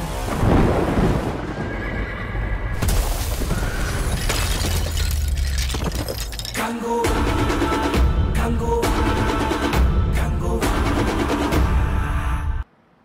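A horse whinnies loudly in the Kanguva film trailer, amid clattering hooves and heavy, booming, thunder-like impacts, with dense cinematic sound throughout and no talking.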